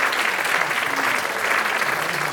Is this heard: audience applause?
yes